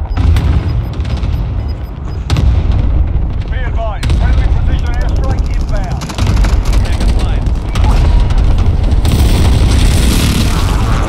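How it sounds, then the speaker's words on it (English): Precision airstrike explosions in Call of Duty: Warzone on Rebirth Island at night, a run of loud booms and gunfire-like blasts rolling through the whole stretch, with radio-style voice chatter mixed underneath. "friendly precision airstrike inbound"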